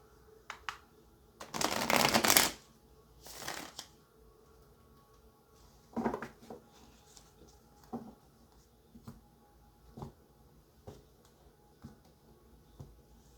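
Cards being shuffled up close: a loud riffling burst, a shorter second shuffle, then a series of soft, separate taps and flicks of cards settling.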